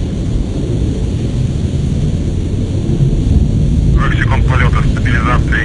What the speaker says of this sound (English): The Soyuz delivering 102 tons of thrust from its four strapped-on boosters and single-core engine.